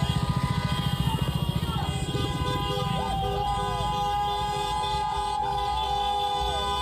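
Car horns honk repeatedly during a street protest amid Los Angeles riots at night, long sustained blasts layered over a loud, rumbling crowd and traffic din, with horns overlapping near and far.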